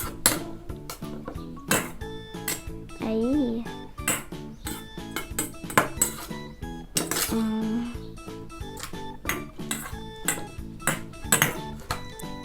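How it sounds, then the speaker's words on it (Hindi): A spoon stirring a small toy cooking pot, making bright metallic clinks and pings in quick irregular bursts, close up, with a voice talking between the taps. "ये स्पून हमने ले लिया है। अब हम इसको घुमा देते हैं।"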